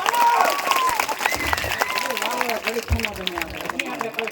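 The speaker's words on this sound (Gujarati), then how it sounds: "તાળીઓ પાડજો બધા કાકા" A crowd claps during a ramamandal devotional performance of a Khodal Maa song. The applause is moderate and continuous, with voices and sung or shouted tones running over it throughout.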